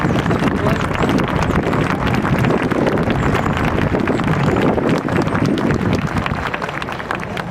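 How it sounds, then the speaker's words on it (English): Loud, dense applause from a large audience honoring standing volunteers at a Vietnamese heritage museum commemoration, a continuous wash of clapping that holds steady for several seconds before easing slightly at the end. "Please give them a big round of applause."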